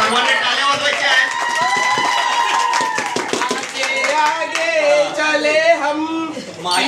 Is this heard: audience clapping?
yes